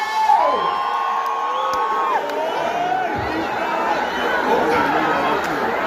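A crowd at a live event roars and shouts in response to an MC's call, a continuous loud wall of cheering, whoops and high-pitched yells with chatter mixed in.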